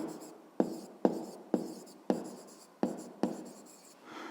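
A pen writes out a math answer by hand on paper, a series of about seven sharp scratching strokes at an even pace, each trailing off quietly, heard up close with no speech.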